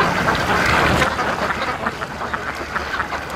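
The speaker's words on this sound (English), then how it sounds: "we got some geese fighting over here" Young geese squabbling on a lake, a burst of loud honking and squawking calls at first that thins into scattered shorter cries over lapping water.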